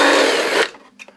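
Power drill boring a hole into the body of an RC4WD D90 Land Rover Defender scale model, a loud, steady high whir lasting over half a second before cutting off into a few faint clicks.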